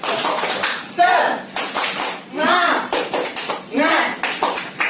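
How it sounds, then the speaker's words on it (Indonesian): A group of mothers does the rhythmic tepuk semangat clap at a child protection training session, bursts of clapping in a set pattern alongside chanted voices, fairly close and lively. "Tepuk semangat."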